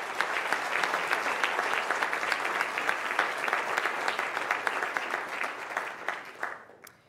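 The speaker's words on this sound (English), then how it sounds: "Let's give Keegan another round of applause." Sustained applause from a ceremony audience honoring a teacher, a dense, even patter of many hands clapping at a steady level for several seconds before tapering off near the end.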